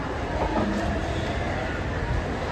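Steady rumble of a train at Thane railway station, a continuous low mechanical drone with faint background chatter.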